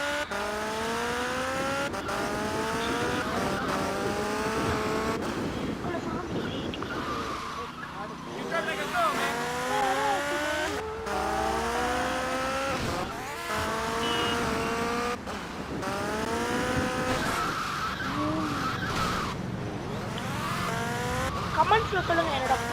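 Car driving in GTA Vice City with engine tones rising and falling, tires squealing and skidding at several points, set under game music and ongoing talk throughout.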